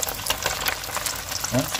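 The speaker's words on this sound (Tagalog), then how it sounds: "habang nagpiprito po tayo" Dense crackling sizzle of fish frying in hot oil, close and continuous, with faint stirring and a brief voice near the end.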